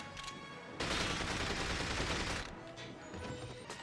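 Rapid gunfire rattles in a burst of about two seconds in the video game From Russia With Love, with fainter shots before and after and no talking.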